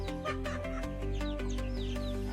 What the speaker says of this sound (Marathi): इतक्या साऱ्या कोंबड्या आपल्या घरी